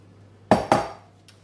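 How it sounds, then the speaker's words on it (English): An oven being opened to add Yorkshire pudding batter to a tray, two sharp metallic clanks of the oven door and tray in quick succession, close and loud, then a faint clink. "I'm just going to open the oven a little bit, and then add the batter"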